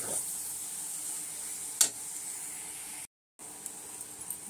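Soya chunks sizzle steadily in a hot pan while being fried dry, a continuous close hiss with a brief sharp crackle and one short cut-out partway through.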